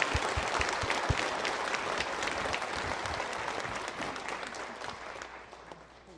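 Warm applause from a church congregation welcoming a visiting pastor, a steady dense wash of clapping that holds for several seconds before slowly thinning toward the end.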